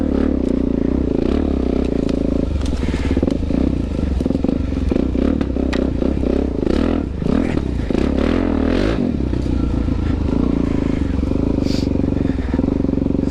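A Suzuki DRZ400 dual-sport motorcycle rides off-road, its single-cylinder engine droning steadily close by with throttle changes, along with clattering and scraping from the rough trail and occasional voices.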